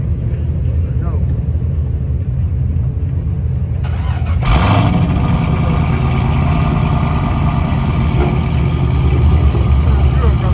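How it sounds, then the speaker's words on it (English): A car fitted with headers, at a Coffee & Cars show, cold-starts with a loud crank and catch, then settles into a steady, rumbling idle that continues close and loud to the end. "we're going to get a cold start right here"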